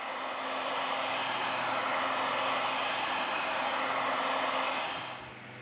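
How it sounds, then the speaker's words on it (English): A heat gun blows continuously at close range while warming an LG K61 phone to loosen its battery cover, a loud, even whooshing drone that tapers off at the end. "We apply heat to the device to remove the battery cover."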